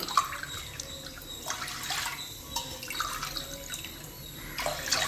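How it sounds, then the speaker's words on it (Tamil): Water splashes and trickles into a container of raw rice in short bursts, with dripping and a faint hollow ring between pours. "இதில் மூணு கிளாஸ் தண்ணி ஊற்றிக்கிறேன்"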